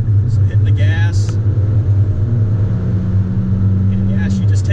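A Hyundai N car accelerates hard to pass traffic, a loud low engine drone building steadily from inside the cabin, with brief higher mechanical whines and a voice talking over it.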